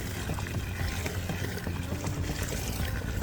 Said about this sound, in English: pour in clean, non-chlorinated water until the bucket is nearly full